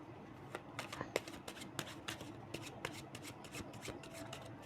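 Tarot cards being shuffled up close, with a rapid run of crisp riffling clicks and soft slaps that repeat steadily throughout, with no voices.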